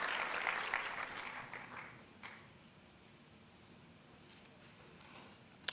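An audience at a 2024 conference claps for a speaker being called to the platform. The applause is full at first, then thins out and fades into a quiet hall, with a few scattered claps.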